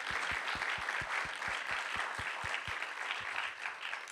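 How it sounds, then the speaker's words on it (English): Moderately faint audience applause in a book festival auditorium, a steady wash of many hands with a few distinct louder claps, continuing throughout. "Let's give a round of applause for the Central Arkansas Library System."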